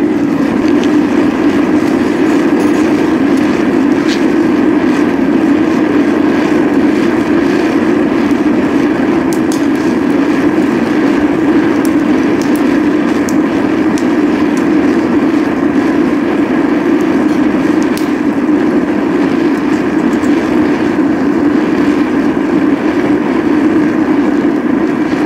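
A diesel-fired foundry furnace burner with its blower running gives a loud, constant roar that stays steady and unbroken for the whole stretch.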